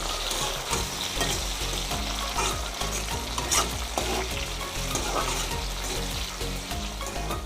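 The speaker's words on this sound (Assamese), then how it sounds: "বিলাহীখিনিও মই ভালদৰে ভাজি ল'ম" Chopped tomatoes fry with browned onions in a pan for an Assamese goat meat curry, a dense, continuous sizzle with scraping stirs throughout.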